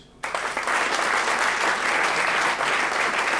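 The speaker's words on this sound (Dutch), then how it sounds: "Dames en heren, groot applaus voor Thijs Wijnen en Sjaak Buijsen." A theatre audience at a Dutch regional awards evening breaks into loud, dense applause that starts abruptly and holds steady without pause.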